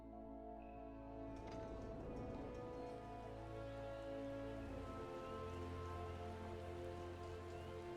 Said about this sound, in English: Appears it is raining in Gridania today.